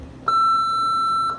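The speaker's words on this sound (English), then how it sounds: "Please leave a message after the beep." An answering machine gives a single steady electronic beep, clear and close, lasting about a second before cutting off.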